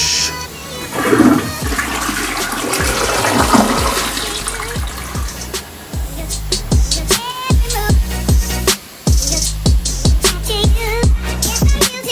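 A toilet flushes loudly and up close, with a gurgling rush of water draining away followed by the bowl refilling, the whole cycle running about twelve seconds.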